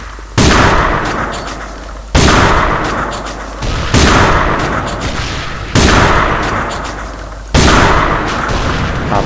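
Five booming DSR-1 sniper rifle shots in the video game A.V.A, evenly spaced about every two seconds, each loud crack followed by a long decaying tail, with no voices.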